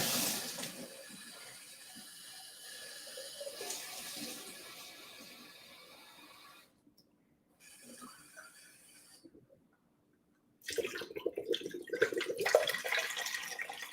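Water from a consomme-sized can poured into a pot on a kitchen counter for brown rice, a steady splashing pour broken by short pauses and a louder final stream, close by with no talk.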